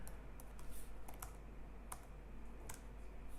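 Quiet, steady clicking of computer keyboard keys typed in bursts, with a few louder keystrokes standing out against a faint room hum.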